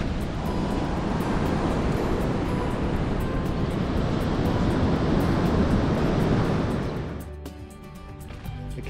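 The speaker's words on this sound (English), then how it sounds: "The waves washing up over the rocks." Surf washing up over rocks along a wild coastline in Cape Arid National Park, a steady loud roar of breaking water that drops away near the end.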